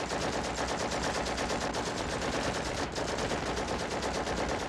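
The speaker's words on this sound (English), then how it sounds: "you're just shooting at a building with a bunch of rifles" Several rifles in a Vietnam War film scene pour steady fire at a building, a dense, unbroken rattle of rapid shots with no pauses and no voices.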